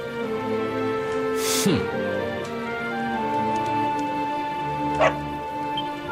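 Dog barking in the Dragon Quest XI video game, a few short yips and barks over steady game music, with one sharp bark standing out.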